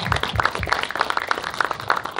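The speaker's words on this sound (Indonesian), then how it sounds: "Tepuk tangan dong untuk Putra Siregar" A crowd at a football club launch event applauds Putra Siregar, a steady patter of many hands clapping, fairly close and moderately loud, with a faint voice underneath.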